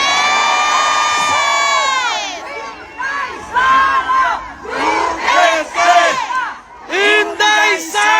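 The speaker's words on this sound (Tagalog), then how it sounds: "Ayan na po ang sigaw ng sambayanang Pilipino kahit sa ibang bansa" A large political rally crowd of Filipino supporters chanting and cheering loudly, with rhythmic massed shouts of a name rising and falling in waves, close and continuous.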